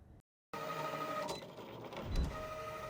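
A Cricut cutting machine cutting material for a customized pillow gives a continuous mechanical whir with motor tones and small clicks, close and fairly quiet after a brief moment of silence.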